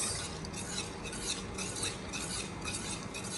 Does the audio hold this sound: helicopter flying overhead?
no